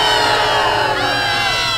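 A large crowd roaring in outrage, a loud, dense wall of many voices with rising and falling shouted tones, sustained without pause.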